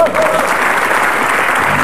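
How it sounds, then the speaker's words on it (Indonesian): A television studio audience at an Indonesian talk show breaks into loud, steady applause that fills the whole stretch without pause. "Tepuk tangan, Pak."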